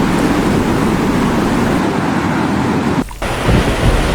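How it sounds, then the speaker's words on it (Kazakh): Strong storm wind roars steadily and loudly, a broad constant rushing with a brief dip near the end before it surges back. "Күшті жел немесе дауыл. Бұл желдің қатты деп соғуы."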